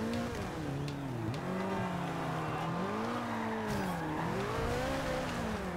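A race car in the Forza Horizon 2 driving game revs hard with its engine pitch rising and falling through gear changes, tires squealing underneath, steady and loud with no talking.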